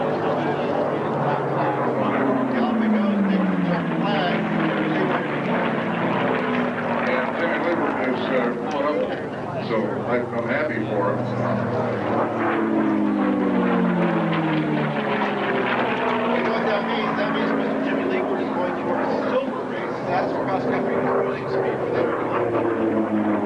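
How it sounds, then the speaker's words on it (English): Warbird airplanes with Allison V-12 liquid-cooled engines and elliptical wings race in an Unlimited heat at Reno Stead Airport, Nevada, their engines droning loudly and sweeping past in repeated rising and falling passes beneath continuous announcer commentary. "Wonderful airplanes, Allison V-12 liquid-cooled engines."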